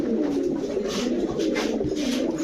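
Pigeons coo in soft, repeated throaty calls close by, layered over one another in a steady murmur, from several pairs of breeding pigeons.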